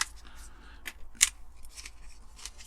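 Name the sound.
scissors pushing down on a Corgi model van part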